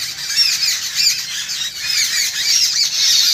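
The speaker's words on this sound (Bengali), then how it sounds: "গাছে পাখি দেখেন, অন্য পাখি, এটা একটা আম গাছ। অন্য পাখিরা সব কিচিমিচি শব্দ" Birds in a mango tree chirp and squawk in a dense, overlapping chorus, loud and near, with shrill calls running continuously and no talking.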